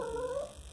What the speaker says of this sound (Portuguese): manda esse cachorro calar a boca